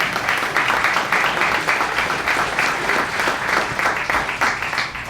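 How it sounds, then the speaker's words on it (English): An audience at a press conference breaks into applause, a dense, sustained wash of clapping that stays fairly loud and even, easing off slightly at the very end. "Go ahead, you can clap for him, whatever."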